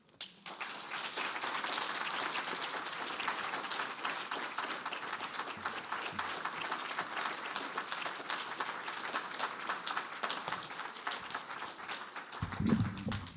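A faculty presentation audience gives Brenda Shaughnessy sustained applause, a steady wash of many hands clapping for over ten seconds with no talk over it.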